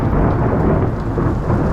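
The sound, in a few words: thunder during a moderate storm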